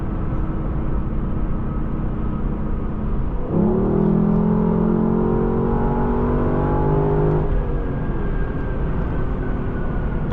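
A 2018 Lexus LC 500 engine on a test drive, a steady cabin drone that swells into a climbing, rising engine tone mid-clip before easing back, no talk over it.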